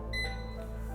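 A single electronic beep rings out clearly from a Thermador convection steam oven's timer, a short high tone over a steady low hum.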